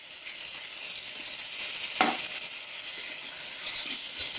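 Curd stirred into kurma masala in a pan, a soft continuous sizzle with gentle stirring and one brief sharper scrape near the middle.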